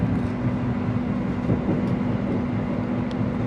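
Argo Lawu train running through the small Paturungan station between Bumiayu and Cirebon, heard from on board as a steady, loud rumble with a constant low hum and faint rattles, no voices.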